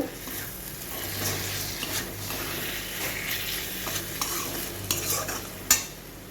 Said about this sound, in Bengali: এক চামচ মতন টমেটো কেচাপ দিয়ে দিলাম এটাকে ভালো করে মিশিয়ে নেব